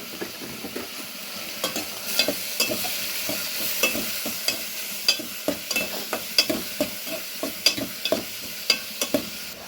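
Onions, green chillies and curry leaves sauté in a hot pan with turmeric and salt. A steady sizzle runs underneath while repeated stirring scrapes and clicks come through close and clear, with no talking.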